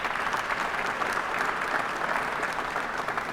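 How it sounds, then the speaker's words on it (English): An audience at the DID 2019 awards opening gives a round of applause for an awardee: dense, steady clapping from a sizable crowd that holds evenly throughout. "a round of applause for Charlie"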